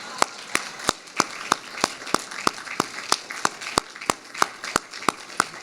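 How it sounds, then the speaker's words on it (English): An audience at a NED Talks event gives steady, rhythmic clapping to welcome speaker Graham to the stage, with sharp, evenly spaced claps about three per second, fairly close and without talk. "Please, a huge round of applause for Graham."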